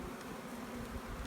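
A box of honeybees in an overwintered colony drones in a low, even buzz, steady and close for the whole moment with no voices.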